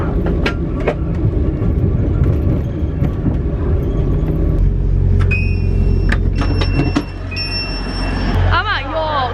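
A Grand Central train rumbles loudly as it slows into York station, with steady low rolling noise, metallic squeals and a few high beeps near the end.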